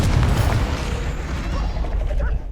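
Confringo blasting spell in Hogwarts Legacy going off as a loud, full-bodied explosive boom with rumbling low end, followed by crackling debris and a few scattered chiming magical tones as it fades.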